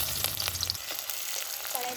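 Mustard oil poured into a hot wok crackles and sizzles loudly, a dense spattering hiss with sharp pops that stays steady for a couple of seconds.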